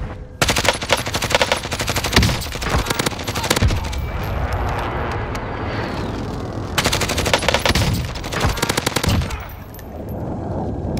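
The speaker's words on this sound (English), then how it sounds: "Taking fire over here!" Heavy automatic gunfire in Call of Duty Warzone, with sustained bursts of rapid shots that come loud and close and repeat across the whole stretch, with brief lulls between the volleys.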